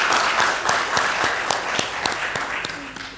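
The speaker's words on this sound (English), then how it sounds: "So let's give them another round of applause." An audience at a student guild event applauds steadily, dense clapping with a few sharper individual claps standing out, fairly loud and close throughout.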